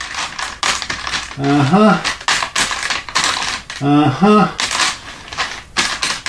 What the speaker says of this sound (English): let me look in the cupboard behind me